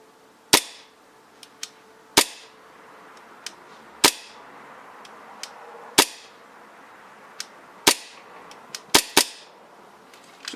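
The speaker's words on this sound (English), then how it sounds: "Let's just do a little dry fire for you guys." A custom-built gun is dry fired repeatedly, giving sharp mechanical snaps at irregular intervals with faint softer clicks between them, close up and with no talk.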